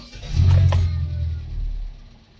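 A Hyundai Accent with a noisy engine, a check-engine light and a misfire cranks and starts, giving a short low rumble with a brief whine, then settles into a steady idle, close by.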